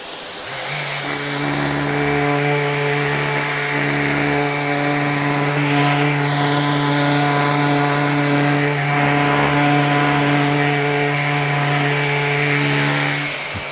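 Power sander running on resin with 500-grit paper, a steady droning motor hum with strong tonal harmonics and a smooth rubbing layer, close and continuous, one brief pitch swell midway.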